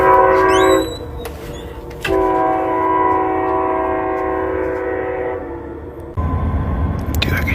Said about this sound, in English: Bro, the train is so loud.